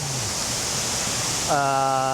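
An impressive waterfall roars as a steady, dense wash of broadband noise, constant throughout, with a short tonal sound and faint background voices near the end.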